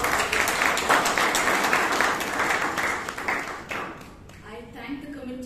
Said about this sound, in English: I request all of you to please give a huge round of applause